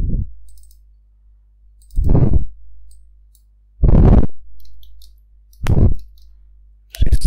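A computer mouse gives four separate sharp clicks, close and loud, spaced about two seconds apart with near silence between them.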